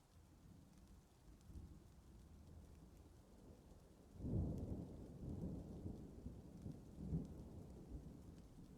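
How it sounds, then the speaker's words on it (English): Steady rain hisses softly throughout a video game scene, then a low rumble of thunder rolls in midway and lingers with a second swell near the end. "It's raining out."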